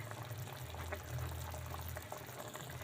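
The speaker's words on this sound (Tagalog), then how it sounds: "Nagpapakulo ako ng tubig sa mainit." A steady low bubbling and rumbling of water boiling in a pot while cooking beef steak, continuous and fairly close, with no voices.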